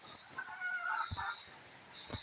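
Faint clucking and short calls from a captured red junglefowl with a couple of low thumps, close by and intermittent against a quiet outdoor hiss.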